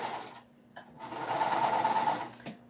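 A sewing machine stitches a seam on a quilted sweatshirt, a short close whirring run after a few brief starts, with no voice over it.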